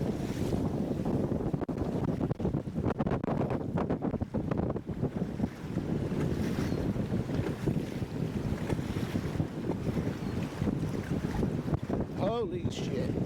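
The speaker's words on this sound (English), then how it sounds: "There's waves coming from every direction." High wind and choppy waves around an Old Town Autopilot 136 kayak, with heavy buffeting wind noise on the microphone and water sloshing and splashing near the hull throughout, and a voice speaking briefly.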